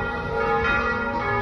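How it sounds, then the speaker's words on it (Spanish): Church bells ring at the San Pedro Nonualco parish church in El Salvador, a loud, sustained metallic ringing with long overlapping tones that fill the whole moment. "No sé si alcanzan a escuchar el sonido de las campanitas ya replicando acá en la iglesia"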